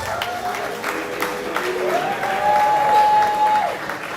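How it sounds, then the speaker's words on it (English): Crowd at a carnival fashion show runway in downtown Orlando applauds continuously, swelling louder toward the end, with a sustained tone and some voices mixed into the clapping. "big round of applause."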